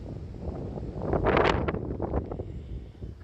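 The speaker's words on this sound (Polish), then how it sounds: "Głos może nam troszeczkę uciekać, ponieważ strasznie wieje dzisiaj." Strong gusts buffet the microphone on the tower of a Bismarck tower in a forest, a heavy, rumbling roar that swells to a peak midway and then settles into steady blustery noise, with no voices.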